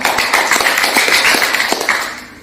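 An audience claps together during a health talk, a dense, fairly loud patter of hands that runs steadily and then tapers off toward the end.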